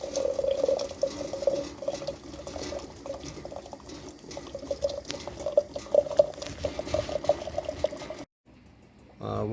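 Fresh homemade maple syrup is poured into a jar, a steady liquid trickle and gurgle up close with a faint tone rising, then a brief drop to near silence before the sound resumes.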